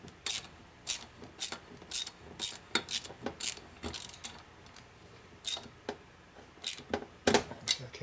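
Ratchet wrench with a cut-down socket working on the cylinder head of a rusty 1952 Harley-Davidson 74ci panhead, sharp close clicks in short uneven bursts with brief pauses between strokes.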